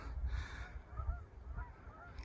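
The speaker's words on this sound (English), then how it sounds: "Geese are singing" Geese honk faintly in the distance on a farm at night, a few scattered calls over low rumbling wind noise from a west breeze.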